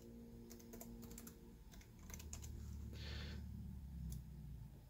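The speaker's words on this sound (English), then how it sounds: "I got to type that password again." Password typed on the keyboard of an old ThinkPad laptop, faint quick clusters of key clicks over a low steady hum, with a soft hiss partway through.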